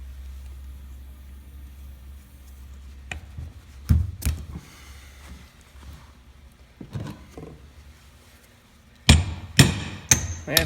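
A hammer gives a few sharp taps to a roll pin in a Dana 30 Spartan locker, with isolated knocks early on and a quick cluster of louder strikes near the end, over a low background hum.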